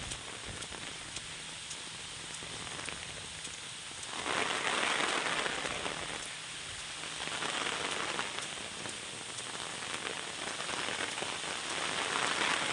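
Steady rain pours down outdoors, a dense hiss of drops that swells in heavier bursts and eases again, with no voices.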